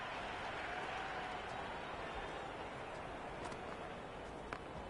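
Stadium crowd at a Big Bash League cricket match between the Melbourne Renegades and Melbourne Stars, a dense, steady roar of cheering and applause filling the whole clip at constant loudness.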